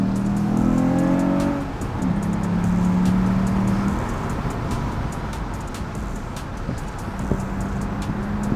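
A car engine revs and strains as it is driven hard, pitch rising and falling through gear changes, with road noise and ticking clicks.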